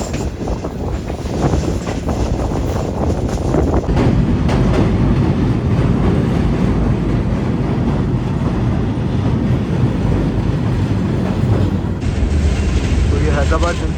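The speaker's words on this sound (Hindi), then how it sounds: "तो ये हैदराबाद जंक्शन पर हमारी ट्रेन अप्रोच बना रही है 12:15 पर।" A Green Line passenger train rolls toward Hyderabad Junction with a steady, loud rumble and rushing wind, heard from on board and continuing throughout with rhythmic rail noise and brief clatter.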